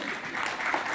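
An award ceremony audience gives a short burst of applause honouring a veteran actor, a dense spread of claps at moderate level filling the whole moment.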